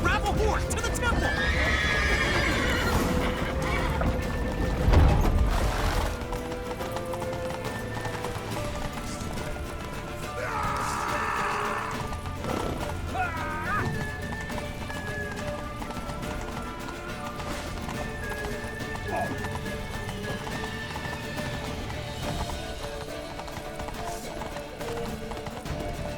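Horses gallop with rapid clip-clop hoofbeats and let out loud whinnies during an urgent escape in The Witcher 3 video game. Characters talk and shout over the hooves throughout the scene.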